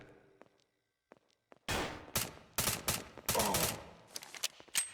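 Gunfire in the combat video game PIGFACE, a quiet lead-in followed by several loud, sharp bursts of shots in quick succession, close and dominant, tapering to a few lighter clicks.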